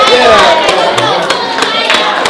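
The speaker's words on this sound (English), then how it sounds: "Everybody clap." Students at a school science fair clap and cheer together, a loud, close crowd of claps and shouting voices with sharp hand hits standing out through the mix.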